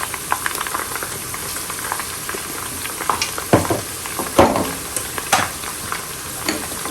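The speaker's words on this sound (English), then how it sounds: "then I'll start frying it." Stockfish frying and being stirred in a hot pot, a steady sizzle broken by repeated scraping stirs and louder clanks of the spoon against the pot, close and clear with no talking.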